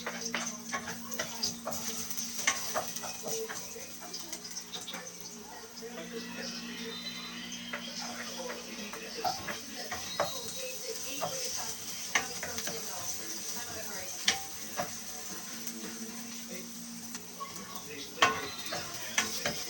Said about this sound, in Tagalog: At igigisa natin ang ating luya.